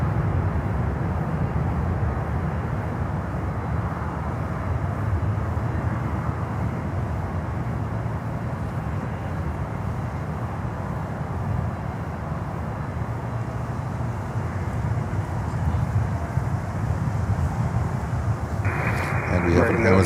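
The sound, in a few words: Amazon Air cargo jet climbing out from runway 8 right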